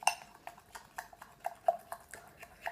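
Chilled slime being stirred in a glass, with a run of light, evenly spaced clinks and scrapes as a utensil taps the glass, moderately close and quiet, with no voices.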